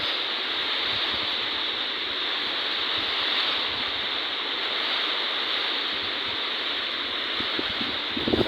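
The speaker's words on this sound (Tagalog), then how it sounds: "Lakas pa ng ulan guys" Steady, dense broadband wash of heavy typhoon rain pouring down, continuous and loud throughout with no pauses, a few sharper splashes near the end.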